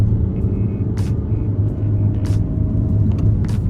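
A 2022 Honda HR-V small SUV driving through corners, heard from inside as a steady low road and engine rumble with brief bursts of hiss, continuous and fairly loud.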